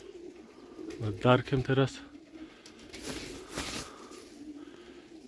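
Pigeons, including large homing-type birds, cooing in a short burst of low throaty calls outdoors, with someone speaking nearby over a steady background hum.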